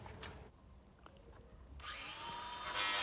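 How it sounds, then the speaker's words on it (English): A power drill whirs in short bursts, then spins up into a loud, rising whine that keeps building to the end. "the buzzing and the drilling does get very, very loud"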